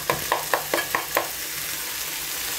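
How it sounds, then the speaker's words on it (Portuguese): Chopped onion softening in a hot pan at home for beef stroganoff, with a steady sizzle broken by about six rhythmic spoon-scraping stirring strokes that fade to plain frying, close up and with no talk. "minha cebola deu uma murchada boa, uma refogada boa"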